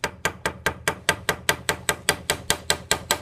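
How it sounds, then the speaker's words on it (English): The round side of a small hammer taps a rivet in a steady, quick rhythm, about fifteen sharp, evenly spaced metallic strikes close up with nothing else heard. "I'm using the round side of this little hammer and I'm tapping it"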